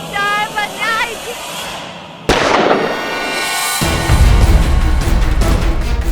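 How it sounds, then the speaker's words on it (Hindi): A single sharp gunshot cracks out in an indoor crime drama scene. It follows a stretch of quieter voices and tones, and a loud, sustained wash of noise and low rumble trails after it. "तुमने गोली चलने की आवाज सुनी?"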